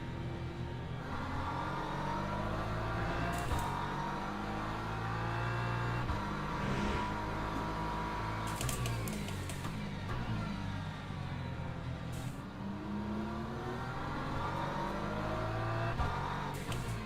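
A Ford race car engine in the video game Le Mans Ultimate revs hard and accelerates out of a corner, a loud, steady roar that rises and falls in pitch with gear changes throughout.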